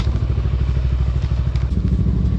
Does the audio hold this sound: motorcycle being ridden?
yes